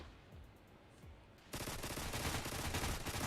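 Video game gunfire from clunky Uzis and shotguns begins after a quiet stretch and turns into a dense, rapid burst of automatic shots that keeps going to the end, fairly faint overall.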